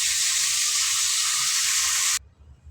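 Vegetables for veg kurma sizzle in a hot pan as a loud, steady frying hiss, which cuts off abruptly near the end and leaves only a faint low rumble.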